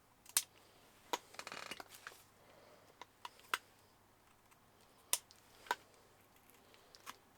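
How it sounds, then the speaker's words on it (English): Scissors snip at sticky masking tape on a plastic Dalek figure, giving a few sharp, quiet clicks and cuts spread irregularly across a hushed indoor room. "grab my scissors and let's see if we can cut it open"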